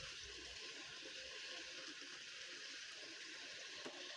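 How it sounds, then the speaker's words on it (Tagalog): Water drains from a pot of boiled skinless sausages, a steady soft splashing pour that runs the whole time, faint and close. "So, tanggalin ko po yung tubig."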